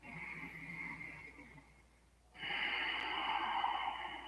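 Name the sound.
a person taking a breath during a yoga pause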